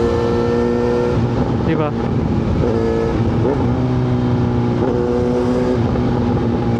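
A Kawasaki Z900RS motorcycle engine runs close by, revving up and down beneath 5,000 RPM in steady loud rises and falls, with a brief spoken word over it.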